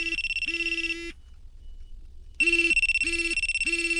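A pager remote handed out at a truck loading area to signal which ramp to use gives off loud, repeated buzzing ring pulses in two bursts, with a pause between them.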